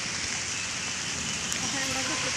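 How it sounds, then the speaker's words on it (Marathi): Light rain falling as a monsoon shower begins, a faint even patter and hiss throughout, with a person's voice speaking faintly over it. "आता पाऊस चालूच झालेला आहे."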